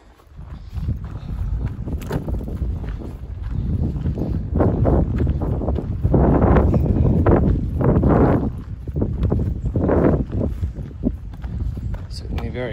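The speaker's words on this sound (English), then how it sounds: "Certainly very windy and foggy." Strong wind gusting over a foggy Appalachian Trail section near the Blue Ridge Parkway, a steady roar buffeting the microphone throughout, with footsteps and breathing close by and rising and falling blasts.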